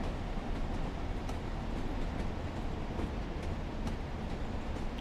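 Train running and braking in Train Sim World 4 on a Blackpool branch line, a steady close rumble of wheels and carriages with faint rhythmic clicks over the rails and no talk.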